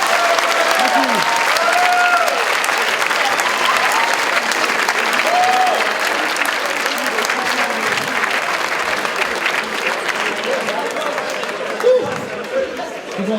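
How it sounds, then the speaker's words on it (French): An audience applauds steadily, a dense wash of clapping that fades slightly toward the end, with a few voices mixed in. "on peut les applaudir!"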